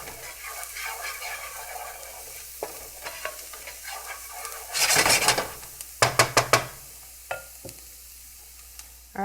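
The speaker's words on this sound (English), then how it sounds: "Add the garlic. And cook for another minute." Garlic sizzles softly in a hot pan while a utensil stirs and scrapes, with a louder burst of frying midway and several sharp clinks against the pan near the end.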